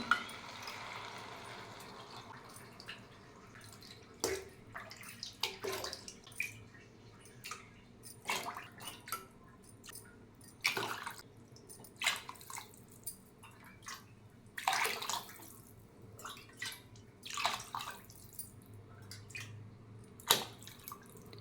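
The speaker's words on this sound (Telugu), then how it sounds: "ఒక కప్పుకు మూడు చొప్పున పన్నెండు కప్పుల వాటర్ పోసుకోవాలి" Water is poured from cups into a pot of rice and moong dal for dal khichdi. It comes as a series of separate splashing pours with short gaps between them, close and moderately loud.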